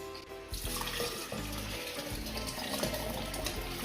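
Hot water from boiled carrots pours steadily into a blender jar, a continuous splashing, gurgling stream close by with no talk over it.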